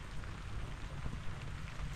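Rain falls steadily on a farm with a soft, even patter and hiss. The sound stays faint and constant throughout, and nobody speaks.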